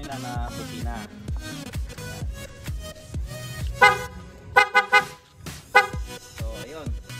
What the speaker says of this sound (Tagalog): So ito naman natin yung in-install nila na busina.